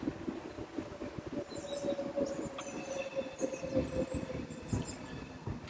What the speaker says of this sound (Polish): Chyba bardziej słychać tramwaje, bo już się zbliżam.